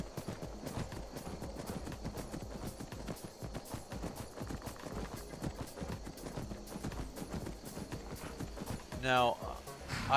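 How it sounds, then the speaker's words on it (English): Horse hooves clip-clop in a steady, rapid rhythm in the video game Skyrim, with galloping continuing throughout and a brief whinny near the end, while a voice talks faintly over it. "Horsey."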